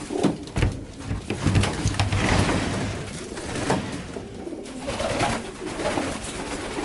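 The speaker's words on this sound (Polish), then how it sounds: "Tutaj są gołębie tu są cele" Pigeons coo in soft, low repeated calls inside a breeding loft, overlapping one another at close range amid light rustling and shuffling.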